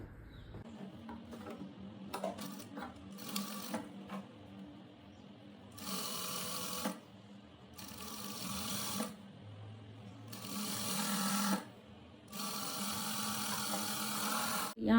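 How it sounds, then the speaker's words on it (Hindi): Sewing machine stitching lining fabric onto a coat collar of a blouse, heard in several separate bursts of steady mechanical whirring, moderately close, with quiet handling noises between them. "यहाँ पे हमने इस तरीके से सिलाई लगा दी।"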